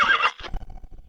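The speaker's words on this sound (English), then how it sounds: "Another horse has been run to exhaustion." A horse whinnies loudly, a bright, wavering neigh lasting about a quarter second, followed by low snorting and breathy rumbles that fade away.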